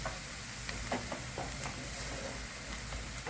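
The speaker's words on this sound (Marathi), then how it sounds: "छान असं परतून घेऊ आपण." Egg masala is sautéed in a pan, a steady hissing sizzle with repeated scraping strokes of a spoon stirring the masala, close up and without speech.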